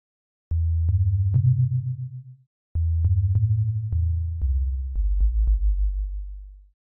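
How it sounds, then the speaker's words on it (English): A deep sine-wave sub bass synth in Serum, pitched down an octave, plays a short sequence of low sustained notes with clicky attacks, pausing once before continuing and fading. "Starting with the sub right here, set to a sine wave, down an octave to sound deeper."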